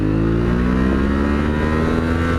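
A 2021 Yamaha Tenere 700 motorcycle engine revs after a downshift, a loud, continuous close-up drone whose pitch climbs gradually and steadily.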